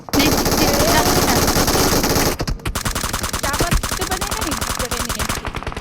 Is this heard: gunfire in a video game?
yes